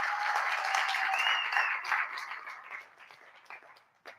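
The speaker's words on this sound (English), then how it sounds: "So give FNB another round of applause for this." A workshop audience applauds, a dense wash of many hands clapping together, loud at first and then thinning and fading out over a few seconds.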